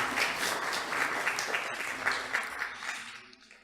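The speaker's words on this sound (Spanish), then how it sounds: "Un aplauso, por favor, para todos nuestros expositores." An audience at a seminar on corporate law applauds the speakers, a steady burst of many hands clapping that gradually thins and fades toward the end.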